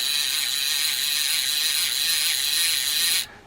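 Clicker ratchet of an Avet SXJ fishing reel buzzing in a rapid, continuous run of close, bright clicks for about three seconds, then stopping abruptly; no talking.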